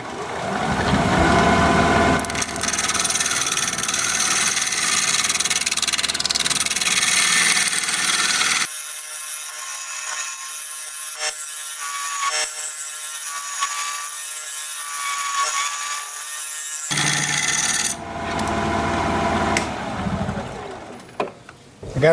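Wood turning on a lathe at about 1150 RPM with a carbide tool, loud rough scraping and cutting noise in long continuous stretches, dropping to a quieter whirring spin in the middle before the cutting resumes.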